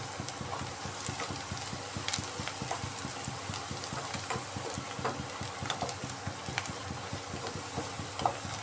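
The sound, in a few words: onions frying into beresta for egg biryani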